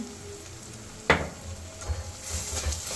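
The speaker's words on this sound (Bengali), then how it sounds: "এটাকে মশলার সাথে খুব ভালো করে আপনাদের নেড়ে নিতে হবে।" Sea crab is stirred with spices in a hot pan, giving a steady close sizzle with one sharp scrape of the utensil and softer stirring scrapes after it.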